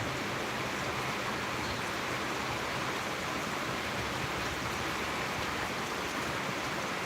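Heavy rain pours by a lake under a cloudy sky, a steady, dense hiss that holds at the same level throughout with no break, no voice and nothing else rising above it.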